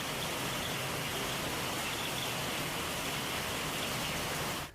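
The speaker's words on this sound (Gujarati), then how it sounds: "અમદાવાદના કેટલાક વિસ્તારોમાં વરસાદ વરસી રહ્યો છે" Rain in parts of Ahmedabad during monsoon downpours: a steady, dense hiss of rainfall on surfaces, constant and fairly loud throughout, stopping abruptly at the end.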